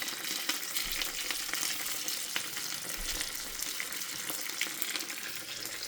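Potato latkes frying in oil in a pan, a steady close crackling sizzle with scattered pops, alone without voices.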